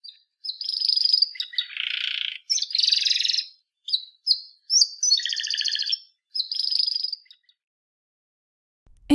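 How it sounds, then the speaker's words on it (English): A pet canary chirps in a series of bright, high trills and short tweets, close and clear against silence, with brief pauses between phrases. "Canary."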